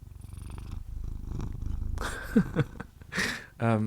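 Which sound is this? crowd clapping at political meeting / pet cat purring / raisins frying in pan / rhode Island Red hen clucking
pet cat purring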